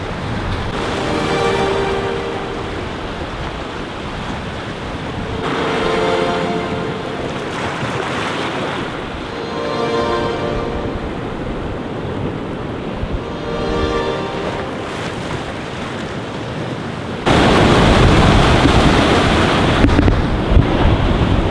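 Ocean surf rolls onto a Hawaiian shoreline in repeated rushing swells roughly every few seconds, loud and close, with heavy wind buffeting the microphone throughout.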